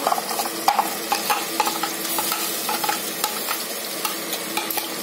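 Onions fry in fat with green masala paste for a biryani, a steady close sizzle broken by frequent scraping clicks of a spoon stirring the pan, with no talking.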